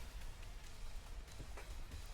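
Steady hiss of rain effect from a Pokemon Sword and Shield competitive doubles battle, a continuous soft patter throughout, faint and even with no talk over it.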